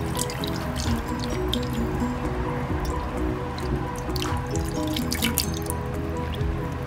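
Warm pudding mixture pours onto a plate in a steady close stream, with many small drips and splatters layered over a continuous liquid patter, and no voices.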